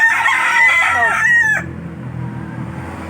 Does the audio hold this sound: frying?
no